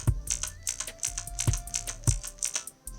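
Keys clatter in a quick irregular run of close, crisp clicks and thocks on a Razer BlackWidow Elite mechanical gaming keyboard, with nobody talking.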